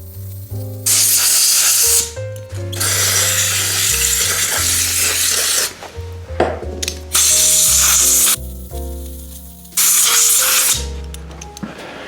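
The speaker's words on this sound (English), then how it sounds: "And this is the Finish Line Speed Degreaser." Finish Line Speed Degreaser sprays onto a bicycle in a repair stand in three long loud hissing bursts, separated by brief pauses with clatter and faint tones between them.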